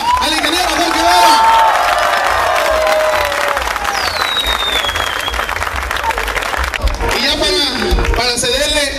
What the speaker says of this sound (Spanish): vamos a gritar y vamos a dar un aplauso a nuestro candidato ahora